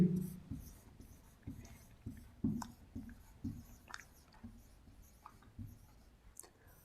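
Handwriting during a maths lesson on sets: quiet, close scratching strokes in an uneven rhythm, with brief pauses between bursts of writing.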